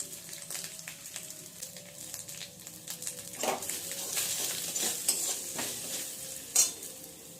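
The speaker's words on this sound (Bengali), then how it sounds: "মশলাটা একটু কষিয়ে নিয়েছি" Spices with ginger paste sizzle and fry in a pan while being stirred, with a steady close hiss and occasional scraping strokes and clinks of the spoon.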